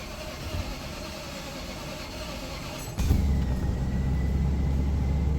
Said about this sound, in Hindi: अब गाड़ी करते हैं स्टार्ट